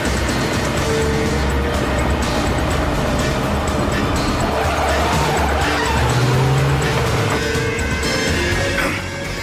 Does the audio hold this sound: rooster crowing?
no